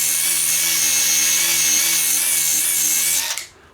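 A Bosch Easy Cut&Grind fitted with a 120 grit sanding pad whirs loudly and steadily as it sands weathered wood, close by, then winds down and stops near the end.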